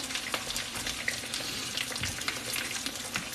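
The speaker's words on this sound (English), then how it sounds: "So these are frying up." Pork cutlets frying in a pan over heat just below high, a steady dense crackling sizzle with scattered pops, close and even throughout with no talking.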